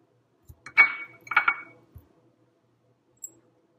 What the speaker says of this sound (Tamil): ஒரு பாத்திரத்தில் வேக வச்ச பொட்டேட்டோ போடுறோம்.